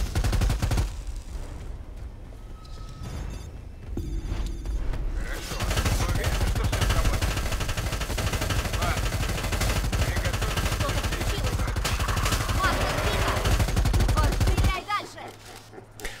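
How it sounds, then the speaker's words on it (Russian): Heavy machine gun fire in Predator: Hunting Grounds, a loud, dense and continuous burst of rapid shots that runs unbroken for most of the stretch, then cuts off abruptly near the end. "Все-таки тяжелый пулемет дает о себе знать"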